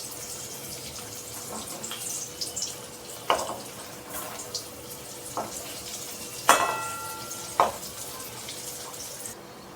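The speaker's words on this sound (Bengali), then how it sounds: "আপনারা কিন্তু একটা মিডিয়াম ফ্লেম রেখে আপনারা চপগুলোকে ভাজতে থাকবেন" Bengali fish chops (machher chop) frying in oil over a medium flame, a steady low sizzle with scattered sharp pops and crackles throughout, no voices.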